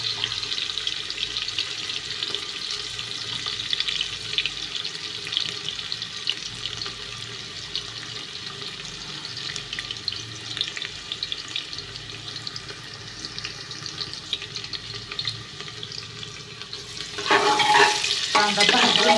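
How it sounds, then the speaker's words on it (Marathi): Onions frying for biryani, a continuous loud sizzle with stirring throughout that grows louder and harsher at the end. "कांदा भाजून घेते दाखवते."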